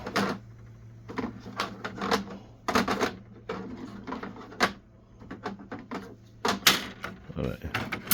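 HP refilled genuine ink cartridges being installed in a printer: a series of near, sharp plastic clicks, snaps and rattles in uneven bursts, with a steady low hum underneath and a voice speaking between the handling noises.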